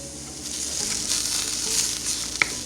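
Carrots and celery sizzling in a pan as they sweat and start to brown, a steady close crackle and hiss with a faint stir or clink near the end, no voices.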